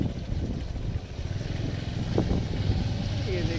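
Motorcycle crossing the Birsa bridge over the flooded Damodar river, its engine a steady low rumble throughout, close and fairly loud, with wind and road noise layered in.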